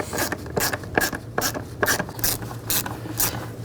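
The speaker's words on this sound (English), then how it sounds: "then you can tighten all these screws down" A ratchet tightening intake gasket screws on a Buick Lacrosse engine: a series of about nine quick, crisp clicking strokes at a steady pace, close and fairly loud.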